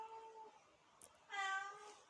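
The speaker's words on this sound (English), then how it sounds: "my cat's just being petulant today" A cat meows twice indoors, a short higher call first, then a longer, louder meow, with quiet pauses between them.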